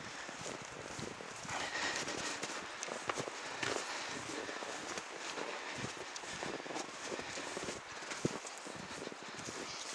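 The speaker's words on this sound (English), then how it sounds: "So we have a horse and 2 mules." Hooves clip-clop on the ground as a horse and two mules move around outdoors on a wilderness farm, faint and uneven steps mixed with wind noise and rustling.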